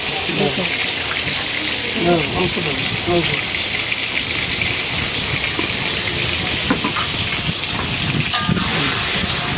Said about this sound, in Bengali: লবণ দিয়ে মাখায় রেখে একটা ধোয়া দিচ্ছি